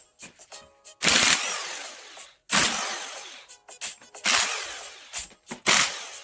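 A power tool, likely an impact gun, rattles in four loud, bursts of about a second each, removing ring gear bolts from a differential carrier during a Toyota lunchbox locker install, with quieter clicks and handling between bursts.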